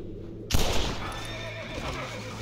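A horse in the video game Red Dead Redemption whinnies suddenly and loudly, a single bright neigh that trails off over a lingering ambient rumble.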